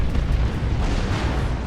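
Rocket Run strike in Dawn of War 2 pitting Imperial Guard against Orks, a dense rumbling barrage of overlapping explosions and booms rolling on steadily without a break, loud and close, with no voices over it.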